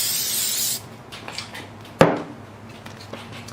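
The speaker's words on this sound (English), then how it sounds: "I'll just be using some regular spray adhesive as well." A short hissing burst of spray adhesive onto vinyl at the start, followed by a sharp knock and a few faint handling sounds.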